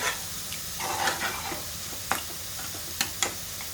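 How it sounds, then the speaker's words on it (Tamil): Country chicken gravy is stirred in a pot, a soft sizzle and hiss underneath with a few sharp scraping clinks of the spoon against the pot near the end. "இப்போ நல்லா ஒரு பரட்டி விட்டுடலாம்"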